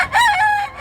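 A rooster crows once, close and loud, a short bright cock-a-doodle-doo call rising then falling, heard alone at a rural poultry sale in South Cebu.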